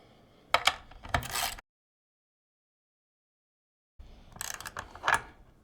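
Nuts being tightened onto Waterborne rail adapter bushings, heard as two close bursts of small metallic clicks and ratcheting separated by a silent gap.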